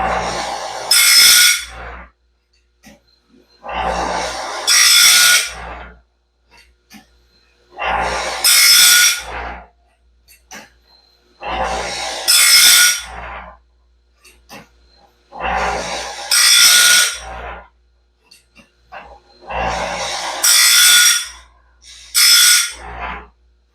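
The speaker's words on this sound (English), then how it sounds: "I'll have my setter out there, my disc grinder." A disc grinder grinds the Stellite-tipped teeth of a new Norwood saw band, sounding in a steady rhythm of six loud rasping passes, each about two seconds long and separated by short quiet gaps, close up with no talk.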